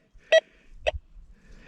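A Deus metal detector swept over a clad dime buried roughly 4.7 inches deep gives two short, bright electronic beeps about half a second apart, with quiet handling rustle between them.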